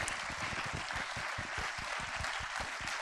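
Sparse, quiet clapping from an audience at a film festival closing ceremony applauding award winners, distinct individual claps in an irregular rhythm, fairly distant and without talk.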